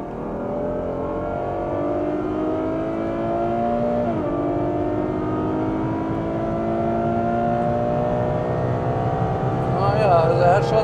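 Heard from inside the cabin, a 2016 Ferrari GTC4Lusso with a naturally aspirated V12 of nearly 700 hp accelerates hard on the Autobahn, its engine note climbing loud and steady through the gears with a brief shift dip midway.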